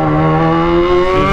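Motorcycle exhaust note from a Yamaha XJ, a steady loud rumble with sustained harmonic tones that rise slightly in pitch, close by and without speech.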